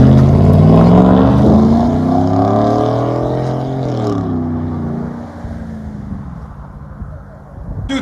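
2005 GMC Sierra 1500 with a lift kit and loud true dual exhaust, engine revving hard and close with a deep rumbling roar that rises, then settles into a lower idle burble.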